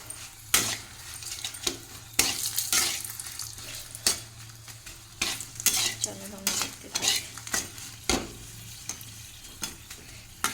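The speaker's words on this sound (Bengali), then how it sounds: "ঝালটা ভেজে নিচ্ছি তো গোটা ছাড়ানোর সময় পেলাম না তেলটা গরম হয়ে যাচ্ছে বলে ভেজে নিই" Chillies fry in hot oil in a home kitchen with uneven bursts of crackling and clattering spoon-against-pan stirring, loud spikes separated by quieter sizzling gaps, and no talking.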